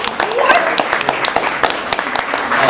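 A panel-discussion audience claps, with scattered sharp hand claps forming loose applause alongside cheering voices and talk, steady and close throughout the short stretch.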